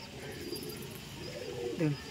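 Fancy pigeons, a Fulshira master pair of male and female, cooing softly at close range with low murmuring calls building toward the end, alongside faint background noise.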